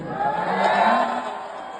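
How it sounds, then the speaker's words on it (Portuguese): An audience applauds and cheers for Elon Musk in a dense, steady burst of clapping and crowd noise that holds throughout. "Eu peço uma salva de palmas para Elon Musk."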